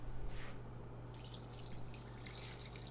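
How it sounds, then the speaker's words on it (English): Chicken stock broth and water poured into a pot of red beans: a soft, steady liquid splash and trickle runs alone under a constant low hum, quiet and close. "Going to add the chicken stock broth and then some water"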